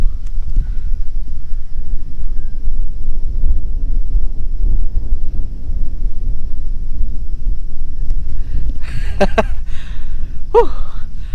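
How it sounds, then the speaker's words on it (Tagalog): Strong wind buffets the microphone in the highlands of Badian, Cebu, with a constant low roar, joined near the end by a couple of brief higher sounds. "kusog ang hangin"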